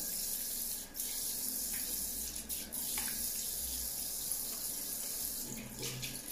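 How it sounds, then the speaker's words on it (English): A bathroom sink tap runs steadily for face washing, a continuous close hiss of flowing water with a few brief splashes and dips as hands move under the stream. "Let me wash my face first."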